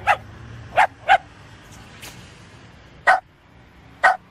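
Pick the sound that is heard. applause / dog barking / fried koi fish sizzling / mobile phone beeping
dog barking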